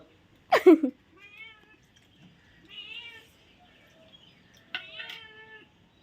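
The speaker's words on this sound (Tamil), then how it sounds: "பத்தாவதுக்கு இந்த பூனை வேற" A cat meows close by: a sharp, loud opening cry, then several softer, drawn-out meows separated by short pauses.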